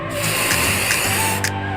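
Spray paint hissing from a can onto a fixed-gear bike frame in bursts, loud and close, with a few short clicks from the nozzle.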